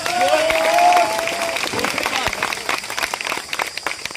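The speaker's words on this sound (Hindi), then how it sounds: "जोरदार ताली बजाना आप सभी" Audience at a job-exam event in an Eco Garden in Lucknow claps and cheers, a busy crowd texture of scattered claps with a voice and tone heard over the start.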